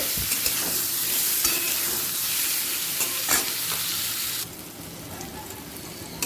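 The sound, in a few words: potatoes and raw bananas frying in a pan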